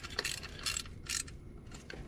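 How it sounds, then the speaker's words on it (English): A ratchet wrench snugs EGR valve bolts on a 2004 Hemi Ram 1500, giving several quick bursts of sharp metallic clicking close by, separated by short pauses. "We'll snug it up, and then we'll snug the other side, and then we'll tighten it."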